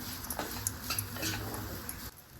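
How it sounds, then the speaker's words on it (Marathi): Grated coconut sautéed in ghee in a pan over medium heat, soft sizzling under repeated light scraping and clinking of a spoon against the pan; no speech. "मध्यम आचेवर हा खीस थोडा तुपावर आपण परतून घेऊ।"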